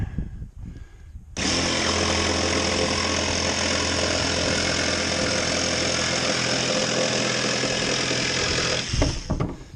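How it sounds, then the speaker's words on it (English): A Ryobi 18V cordless jigsaw cutting through a board, starting abruptly and running at a steady, loud, buzzing rate for about eight seconds before stopping. "It's not the straightest cut because you're using a jigsaw"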